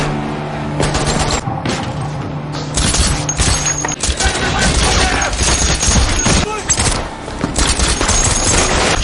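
Loud, dense gunfire in a film shootout between CIA and KGB agents inside a house, with a shotgun blast among bursts of shots and mechanical clatter, continuous and close.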